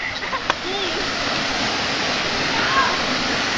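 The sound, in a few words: waterfall at Pungkan Falls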